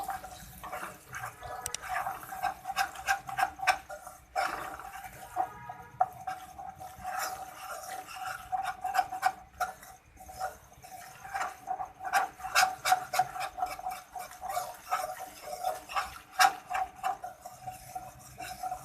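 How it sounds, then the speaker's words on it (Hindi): Maida flour being stirred into hot oil in a pan, a soft, irregular scraping and rubbing with faint bubbling and a steady low hum beneath, close by and fairly quiet throughout. "मैदे को अच्छे तरीके से मिक्स कर लेंगे"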